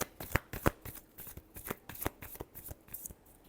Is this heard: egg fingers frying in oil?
no